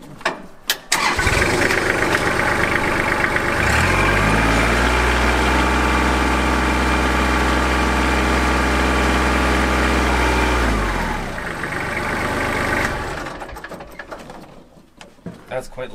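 A diesel farm tractor engine cranks, catches and revs up to a steady, loud working RPM, holding a heavy droning roar for several seconds before dropping back and winding down at close range.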